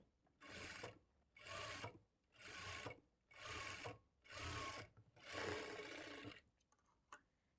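A sewing machine stitches cloth for a hook strip in six steady runs of rapid whirring, each about a second long with short pauses between, the last run longer, then a faint click.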